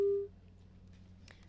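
A telephone line gives a loud steady tone right at the start, cut off after a quarter second, as a call on a TV news phone-in drops, leaving faint line hiss.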